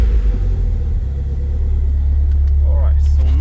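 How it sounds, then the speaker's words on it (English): A Mitsubishi Eclipse 2G GSX engine runs after starting, a loud steady low rumble close by with a smooth idle throughout and a voice speaking briefly near the end. "Let me start the car and show you what I found out."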